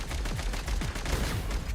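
Rapid gunfire in a video game firefight: a dense run of quick shots, moderately loud and close, with no talk over it.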